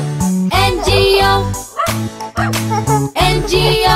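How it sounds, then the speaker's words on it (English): A cartoonish dog barks repeatedly in a nursery rhyme about a farmer's dog named Bingo, with short, loud yips falling in rhythm with the bouncy sung melody. "There was a farmer had a dog, and Bingo was his name-o."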